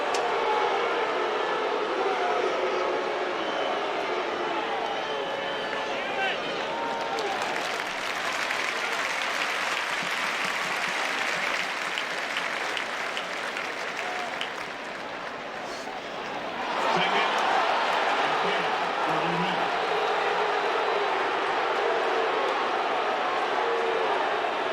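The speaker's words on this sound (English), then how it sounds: "Fans booing." Football stadium crowd at a 2008 South Carolina vs Mississippi game, a dense sustained roar of thousands of fans booing and jeering, loud and continuous, briefly dipping before swelling again near the end.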